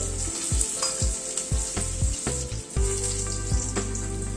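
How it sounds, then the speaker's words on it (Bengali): Potato pieces lightly fry in oil in a pan for a papaya curry, giving a steady close sizzle. A spatula scrapes and knocks through it in a regular, roughly half-second rhythm. "আলুটাকে আগে একটু হালকা করে ভেজে নিচ্ছি।"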